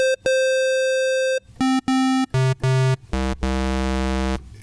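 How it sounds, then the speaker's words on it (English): Synthesizer pulse-wave tones play a sequence of held notes stepping downward in pitch, bright and hollow, with short gaps between them. "now we also have a pulse wave, and that has a little bit more of a hollow sound"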